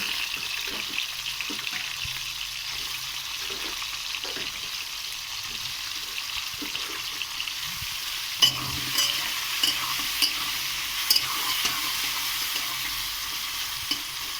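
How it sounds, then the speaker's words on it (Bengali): Kuchia fish fry in hot mustard oil in a wok with a steady, moderate sizzle that continues throughout, broken now and then by soft clicks and scrapes of stirring. "আবার উল্টে পাল্টে এরকম করে সুন্দর করে লাল লাল করে ভেজে নিতে হবে"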